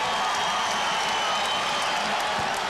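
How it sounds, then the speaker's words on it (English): SIU fans cheer in a basketball arena during a game against Evansville, a faint, distant crowd roar that stays steady throughout the short moment. "that cheer you hear in the background is the SIU fans"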